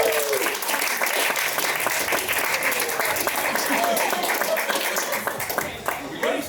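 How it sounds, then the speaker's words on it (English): Audience applause at the Dublin International Comedy Film Festival awards ceremony for award winner Keith Jordan, a dense, steady roar of clapping from a room full of people, sustained at full level throughout with a few cheers mixed in. "He's amazing and he deserves every bit of applause."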